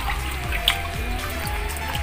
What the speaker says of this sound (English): hugasin na po yung chicken natin